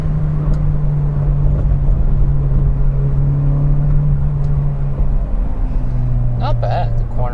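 A Peugeot 405 Mi16 drives through traffic, heard from inside as a steady, loud engine drone with road rumble. The engine note drops slightly near the end, and a few faint clicks sound over it.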